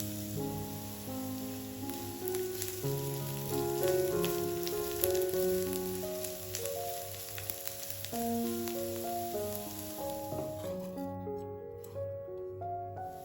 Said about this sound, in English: Heat a little olive oil over medium heat. Cook the onions for 2-3 minutes until translucent.